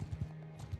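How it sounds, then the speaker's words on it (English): Horse hooves clip-clopping in a video game, a few soft rhythmic thuds over a steady low hum, faint and close. "What about if I ride a horse?"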